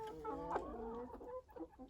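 Several hens cluck and murmur close by, short overlapping calls rising and falling.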